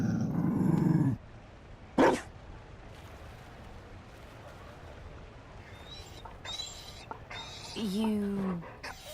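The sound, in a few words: Mabari dog growling and barking in Dragon Age Inquisition video game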